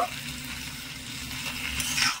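A spatula scrapes and stirs a cauliflower samosa filling with fried peanuts in a pan, producing soft, close scraping with a faint sizzle, quiet and brief.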